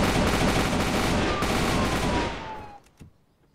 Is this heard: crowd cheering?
no